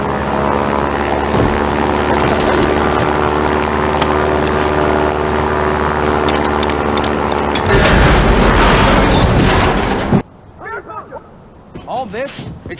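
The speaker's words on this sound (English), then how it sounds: "The one the plane that's about to take off." A propeller plane in Far Cry 4 roars loudly and steadily for several seconds, swelling as it takes off, then cuts off abruptly and leaves spoken voices behind.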